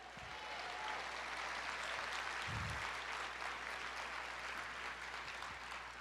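A church congregation applauds the Lord during a sermon, a sustained, even wash of many hands clapping, heard from a distance and fairly faint, with a couple of brief low thumps.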